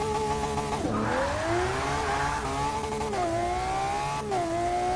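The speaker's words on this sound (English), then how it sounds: "All four tires spinning real quick." A car's tires spin on launch in Forza 6, a loud, continuous engine howl climbing and dipping in pitch with gear changes, mixed with a sustained tire squeal and no talking.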